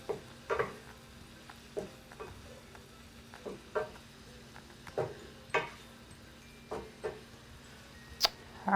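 Vegetables for a stir fry sizzle in a pan under a steady faint hiss, broken by repeated light clicks and taps from stirring at a loose rhythm, with no voices.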